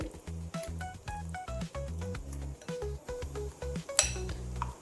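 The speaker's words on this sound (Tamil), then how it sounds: "எல்லாரும் மிக்ஸ் ஆகுற மாதிரி நல்லா கலந்து விட்டுக்கணும்" Sweet potato pancake batter stirred in a bowl, heard as a rhythmic series of clinks and knocks of a spoon against the bowl with soft wet squishes between, close and steady, ending in one sharper clink.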